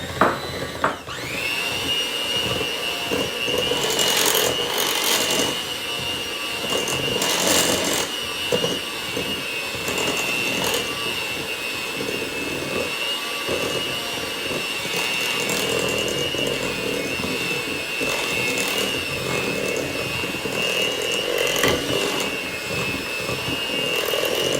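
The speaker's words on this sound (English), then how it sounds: "I think I can do this with my hand mixer" An electric hand mixer whirs steadily through cookie dough with eggs, a continuous buzzing motor hum with occasional scraping bursts as the beaters hit the bowl, moderately loud and close, with no talking.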